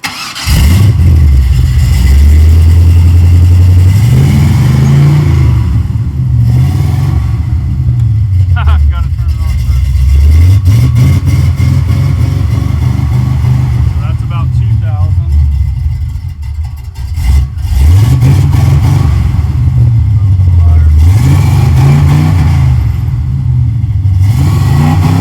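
A car engine rigged with a DIY rev limiter starts and revs repeatedly, rising and falling in loud cycles against the limiter, close to the microphone, with a short idle dip midway.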